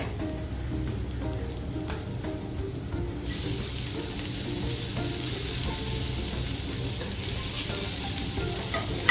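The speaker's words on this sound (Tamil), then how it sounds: "அரை தக்காளி நல்லா வதங்குது." Onion and half a tomato sauté in a pan as part of a snake gourd poriyal, giving a loud, continuous frying sizzle that grows brighter partway through, close and steady with no talk.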